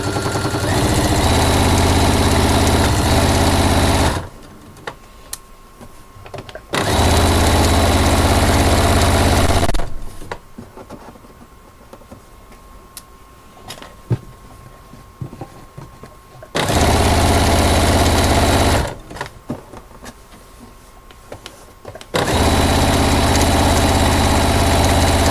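A sewing machine stitches a fabric notebook cover in four steady bursts of fast, even whirring, separated by quiet pauses with faint handling noises.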